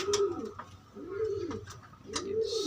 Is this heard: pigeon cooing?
yes